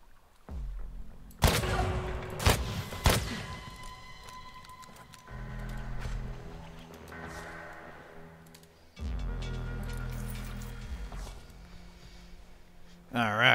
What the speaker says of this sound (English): let's just shoot them